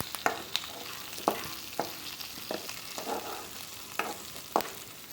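Tomatoes sautéing on medium flame in a pan, a soft continuous sizzle broken by periodic spoon scrapes and clicks against the pan, close and moderately quiet.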